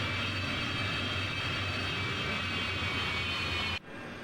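Heavy transporter aircraft in a flight simulator game, steady broadband engine roar after landing, loud and continuous before cutting abruptly to a quieter hum near the end.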